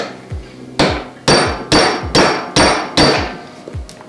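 Six or seven sharp hammer blows drive a roll pin out of a flex coupling. The strikes are close and loud, about half a second apart, and there is no talk.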